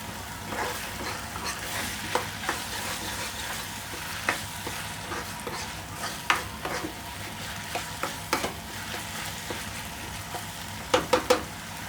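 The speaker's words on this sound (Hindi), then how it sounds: "इसको हम अब भूनेंगे अच्छी तरह" Minced mutton keema fries and gets stirred in a pan, a steady close sizzle broken by scraping stir strokes and sharper spatula clicks, with no talking.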